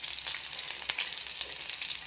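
Minced garlic frying in melted butter for a broccoli stir-fry, a steady, close, even sizzle with a small crackle spike near the middle, no voices.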